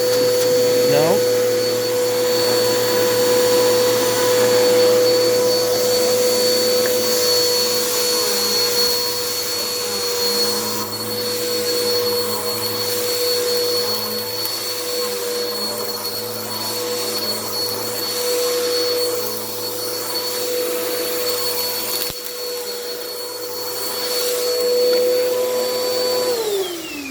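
A vacuum cleaner runs steadily with its brush turning, a loud continuous whine and roar with a high tonal whistle that holds for the whole stretch before winding down at the end.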